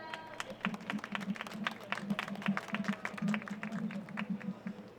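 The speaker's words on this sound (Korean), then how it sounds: "올라오실 때 큰 박수 부탁드립니다" Audience at an outdoor political youth pledge event at Cheonggye Plaza applauding as a speaker comes on stage, a dense patter of many hands clapping steadily at moderate distance.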